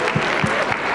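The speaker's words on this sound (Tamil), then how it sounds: "கைத்தட்டல் இருந்துட்டே இருக்கணும் இந்த பீரியட் ஃபுல்லா." Applause from an audience at a speech competition prize distribution during a Pongal festival, a short burst of scattered, steady clapping from a nearby crowd.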